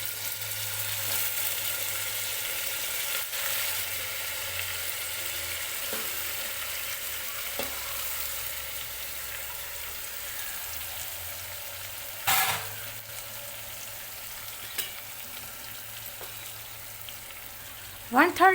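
Sweet potato pieces fry in a pan with a continuous soft sizzle, broken by a few stirring clinks and a sharper scrape of the utensil near the end.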